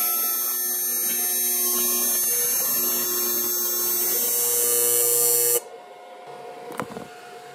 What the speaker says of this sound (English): And now I can weld the entire seam.